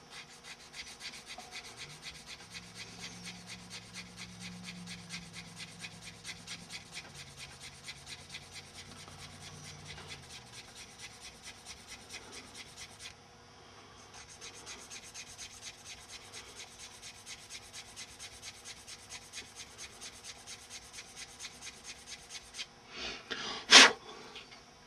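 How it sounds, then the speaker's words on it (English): A wooden vent post is hand sanded with long, even, repeated rasping strokes at close range, the rhythm pausing briefly midway before resuming, then ending with a sharp louder scrape. "when I'm sanding this, I'm not sanding it sideways"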